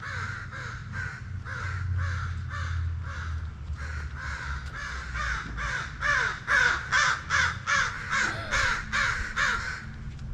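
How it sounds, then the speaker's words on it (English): A crow caws repeatedly in a leafy, tree-lined university neighbourhood in Bozeman, Montana, a long run of fairly close, regular calls that grows louder and more insistent toward the end over faint low street rumble. "fussy crow."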